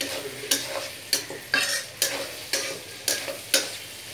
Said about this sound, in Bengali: নাড়াচাড়া করুন একটু ভালো করে